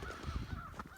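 Crows caw in the woods, a short faint call or two heard from a distance over quiet outdoor ambience.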